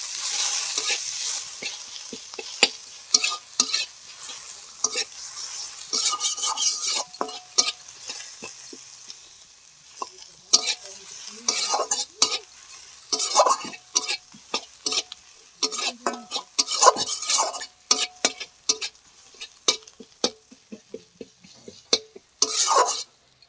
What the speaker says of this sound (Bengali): কেটে রাখা পেঁয়াজ কুচি দিয়ে দেবো হালকা লাল লাল করে ভেজে নেবো